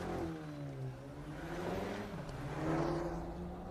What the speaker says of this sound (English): Bryce Meredith just left the line in the number 171 Corvette